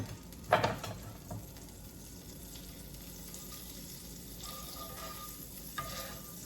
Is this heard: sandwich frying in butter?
yes